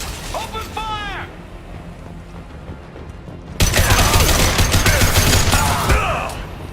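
Gunfire erupts in a Mass Effect 2 firefight: a dense, loud burst of shots starts a few seconds in and continues steadily, after a voice speaks over quieter background sound.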